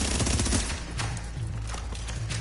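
Gunfire in the video game The Division, rapid bursts of shots rattling through a dense, steady wash of game noise for the full stretch, with no clear gaps between volleys.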